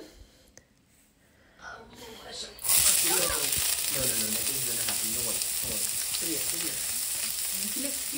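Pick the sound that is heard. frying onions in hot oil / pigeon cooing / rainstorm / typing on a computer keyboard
frying onions in hot oil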